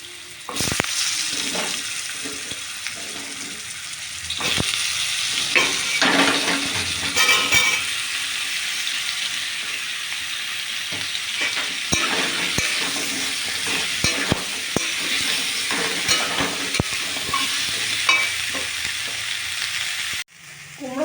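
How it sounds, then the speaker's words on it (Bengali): Pumpkin curry simmers and sizzles in a pan while a spoon stirs it in repeated scraping strokes, with a steady close frying hiss throughout and no talking. "কুমড়োর তরকারিটা চাপিয়ে দিচ্ছি এবার"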